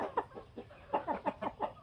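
A hen clucks in a short series of close, rhythmic bursts, about eight clucks in under two seconds, with no talking.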